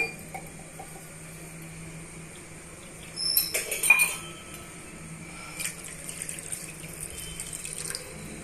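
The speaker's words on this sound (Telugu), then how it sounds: "నేను ఒకటి ముక్కాలు భాగం వాటర్ని యాడ్ చేస్తున్నానండి" Water runs and splashes into a metal pan, with a louder gush midway and light clinks of cookware, heard up close without speech.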